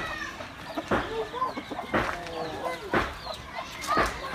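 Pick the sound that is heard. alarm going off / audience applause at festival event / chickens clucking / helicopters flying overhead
chickens clucking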